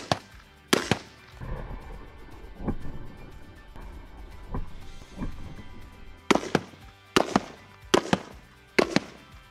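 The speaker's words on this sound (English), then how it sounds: "we're gonna go buy some soda cans and shoot those at it" Soda cans shot at roofing shingles hit with loud, sharp bangs: a few spaced impacts early on, then a quick cluster of four or five cracks toward the end over a low outdoor rumble.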